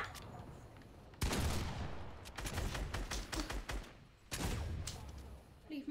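Flintlock pistols fire in a Fortnite match: loud, sharp gunshots come in clustered bursts, with a heavy volley early on, a rapid string of cracks after it and another burst near the end.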